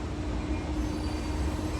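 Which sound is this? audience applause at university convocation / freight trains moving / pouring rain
freight trains moving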